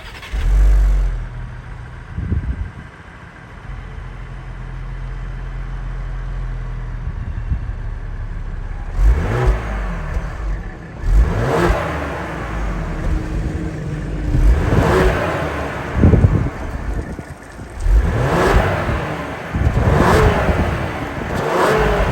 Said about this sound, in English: let's fire up this 3-liter twin turbo EcoBoost and hear how she sounds